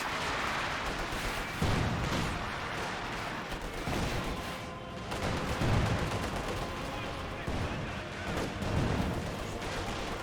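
Gunfire from a Penal Squad in the real-time strategy game Company of Heroes 2, repeated rifle and artillery-like bursts booming at irregular intervals over a dense battle din.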